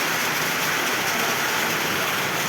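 Steady, dense rain pours down, a continuous hiss of drops on surfaces filling the whole moment.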